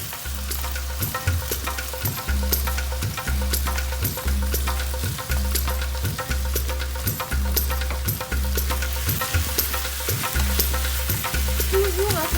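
Beef, garlic and onion frying over very high heat in oil in a pan, a steady loud sizzle with regular rhythmic stirring or scraping thumps throughout, no voices.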